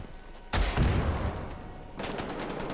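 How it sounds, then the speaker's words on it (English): An explosive potato cannon fires in the video game Wolfenstein: The Old Blood, two loud booming blasts with a rumbling tail, the second coming after a short pause. "It's my explosive potato cannon. Shoots potatoes."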